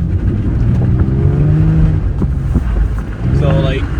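Car drifting on a patchy mix of ice and dirt in second gear, using an angle kit and handbrake, engine roaring loud and steady with rising revs and a brief dip near the end, under some talk.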